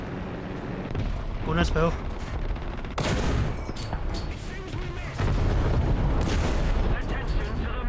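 Tank cannon fire in War Thunder from a Churchill Mk 1, loud booming blasts at intervals with rumbling aftermath, while someone talks over the combat.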